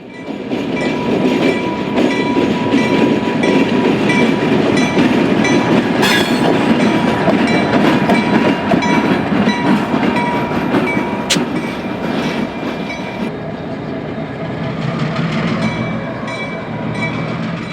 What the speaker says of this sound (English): another light SW1500, the 303, returns to the plant.